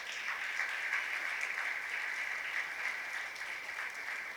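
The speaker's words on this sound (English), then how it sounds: "big round of applause" An audience at a celebration of ability in disability event applauds a visually impaired student, the clapping soft and distant, a steady even patter held at low level throughout.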